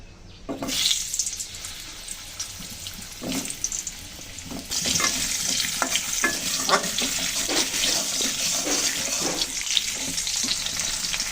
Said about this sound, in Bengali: এখন এই তেলের ভিতরে আবার আমি আলুগুলো ভেজে নেবো